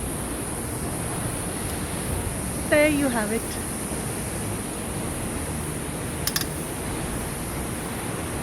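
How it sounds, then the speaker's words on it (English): A waterfall at Jawhar Hills in Maharashtra roars as a steady, broad rush of falling water, while someone briefly speaks over it. "I finally reached the waterfall, and I am the only one around."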